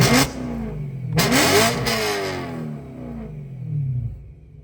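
A BMW E90 M3 with a stainless steel Bomiz rear exhaust, valves open, revs hard twice in quick succession, each sharp rise falling away into a deep, loud burble at close range with no talking.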